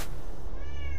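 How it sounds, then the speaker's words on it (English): A house cat meowing in the room while an FTL: Faster Than Light game session plays, one drawn-out meow rising above a steady low hum, with no speech. "I apologize for all the meows you likely hear off in the distance."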